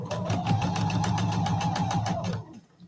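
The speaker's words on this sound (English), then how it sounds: "So I can now sew my top row" Sewing machine stitching the top row of a quilt sampler block, a quick even run of needle strokes close up for over two seconds before stopping.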